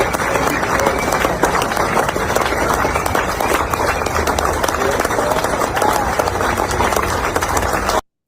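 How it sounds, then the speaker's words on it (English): An audience clapping for military veterans arriving on an honor flight in Washington, D.C., a loud continuous wash of applause and crowd noise that cuts off abruptly at the end. "Everybody's clapping except him."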